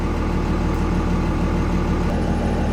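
A first-generation Dodge truck engine idles steadily on flat ground after a hard run, a loud, even low rumble with a constant pulsing throb that carries on unbroken with no talking.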